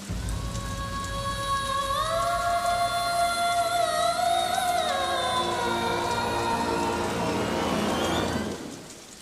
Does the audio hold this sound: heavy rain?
yes